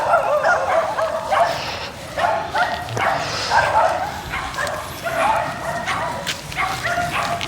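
A dog barks and yips repeatedly on a mountain trail, close and fairly loud, with whimpering sounds between the barks against a steady outdoor background.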